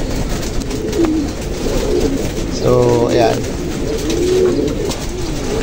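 Pigeons coo in soft, rolling calls under someone talking, with one louder burst of cooing near the middle.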